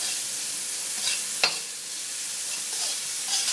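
Onions fry in a pan for vegetable noodles, a continuous soft sizzle heard up close, broken by a sharp scrape of stirring near the middle and a few quieter utensil movements.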